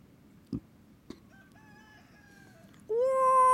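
A chicken gives a whirring cackle, a sustained rising tonal call that starts softly and swells to a loud, steady drone near the end, preceded by two brief knocks.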